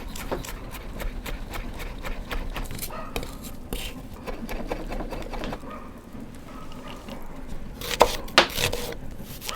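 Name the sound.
finely chopping shallots with a knife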